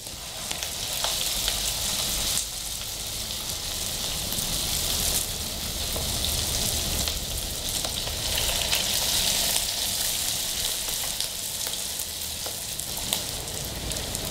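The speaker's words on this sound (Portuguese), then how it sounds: "Aí, ó, começou a fritar de um lado" Corn fritters sizzle steadily in hot oil, a dense continuous crackle and hiss held close and even throughout with no talking.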